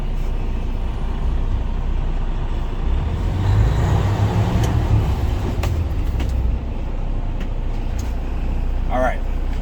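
A truck creeps forward at about 5 miles an hour during a driving-school in-cab check, its engine rumbling steadily and close with a brief hiss of released air brakes partway through, road noise throughout.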